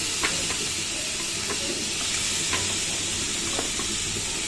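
Chicken pieces dropped into a hot kadai, a steady frying hiss with scattered sharp pops and crackles, close and fairly quiet with no speech.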